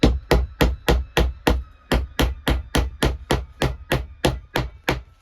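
Repeated hammer strikes tapping a wooden inlay into its recess, about sixteen sharp, evenly spaced knocks in a steady rhythm, close and fairly loud with no talking.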